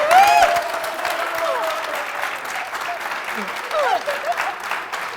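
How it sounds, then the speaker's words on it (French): A crowd claps steadily and continuously at a French New Year's TV special, with whoops and shouted voices rising over the applause at the start and again near the end. "Ça mérite des applaudissements."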